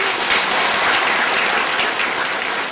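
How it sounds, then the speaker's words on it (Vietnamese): Sustained, fairly loud applause from a church congregation at a Mass in Paris, a dense wash of clapping hands that holds evenly throughout without any voices on top. "Chúng ta có một tràng pháo tay rất đặc biệt để chúc mừng Đức Cha Thanh Hóa nữa."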